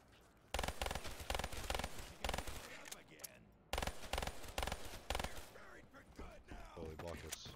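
Rapid automatic gunfire in the Kino starting room of a zombie video game comes in loud bursts separated by short pauses, with sounds of the game running underneath and a player talking at times.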